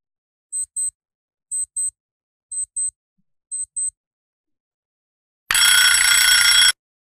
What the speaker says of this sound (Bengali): এটা হচ্ছে অ্যালার্ম ক্লক